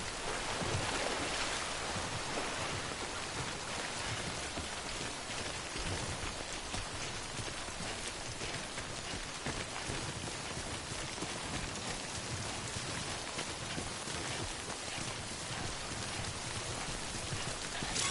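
Steady, dense rain hisses and patters throughout the game Death Stranding, a continuous close downpour with no pauses and no speech over it.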